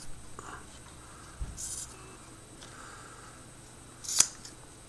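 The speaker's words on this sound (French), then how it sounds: "Je prends tout de suite mon ciseau, je coupe le haut." Small scissors snip the top of the cotton wick on a vape coil, a few quiet clipped cuts with a sharp, bright metallic snip near the end, heard close against a low room background.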